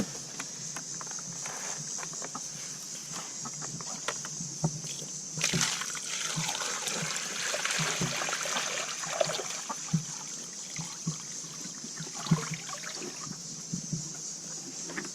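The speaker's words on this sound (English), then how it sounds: "Like Coulter forgot to bring them fresh water, so I'll dump it out." Old water poured out of a chicken waterer outdoors, a steady trickling splash running through most of the stretch at moderate level, with faint scattered knocks and movement around it.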